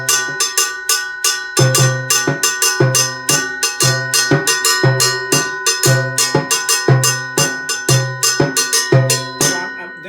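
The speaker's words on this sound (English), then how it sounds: "you can play the standard cowbell pattern that everybody knows" A cowbell plays the standard cowbell pattern, accenting beats 1 and 4: bright metallic strikes with a lower accent in a looping rhythm, loud and close with no voices.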